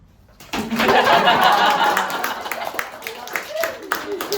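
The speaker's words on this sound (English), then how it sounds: "Clap." A small group at a children's summer camp showcase breaks into brisk clapping that swells and then thins into scattered claps while voices chatter over it.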